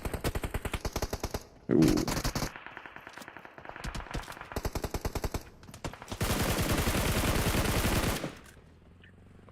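Rapid automatic gunfire in the mobile battle-royale game PUBG Mobile during a league match: long rattling bursts of shots with brief gaps and a short exclamation from a voice.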